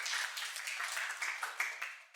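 Applause from a conference audience for student delegates at a Model UN event, a steady wash of many hands clapping at moderate level with a few sharper claps standing out, continuing alone for a couple of seconds.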